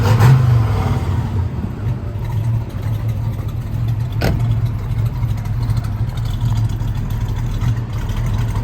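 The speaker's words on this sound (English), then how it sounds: "Car sounds great too." Restored 1966 Chevrolet Nova Super Sport with a 327 V8 runs at a steady idle, a continuous low engine rumble heard close and alone throughout.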